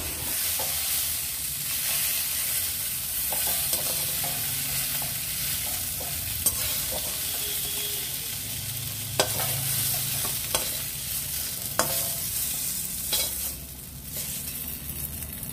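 Vegetables frying in a pan while being stirred, for a kakrol (spiny gourd) dish, a constant close sizzle with intermittent clicks and scrapes of the spatula, and no voices.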